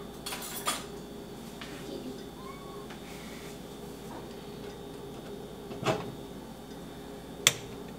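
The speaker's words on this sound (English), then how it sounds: "I'm gonna grab a spoon" A spoon is pulled from a cutlery drawer in a home kitchen, giving a few short metallic clinks and a sharp clatter near the end, set against low room noise, with a cat meowing briefly.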